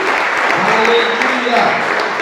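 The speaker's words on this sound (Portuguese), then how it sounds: "Dá um teco de palmas aí" A church congregation claps together in a dense, steady burst of applause that fills the space for a couple of seconds, loud and close.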